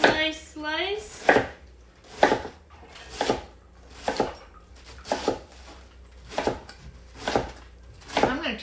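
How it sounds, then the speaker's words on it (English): A knife slices through cabbage on a cutting board as fermented slaw is prepared, about eight crisp, evenly spaced chops landing roughly once per second, close and clear, after a brief voice at the start. "cut my core. I'm gonna slice, slice, slice."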